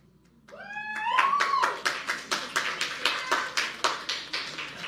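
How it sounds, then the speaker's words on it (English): An audience at a Bashar channeling session claps in a steady, evenly spaced rhythm of about a dozen sharp claps, preceded by a brief sustained tonal voice-like sound. "Not sure why you're clapping for that"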